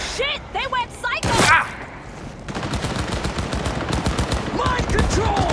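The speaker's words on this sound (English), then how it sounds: "Using a shotgun!" Shotgun gunfire in Cyberpunk 2077, heavy blasts going off amid game combat with bursts of rapid shots, loud and close, with voices shouting between the shots.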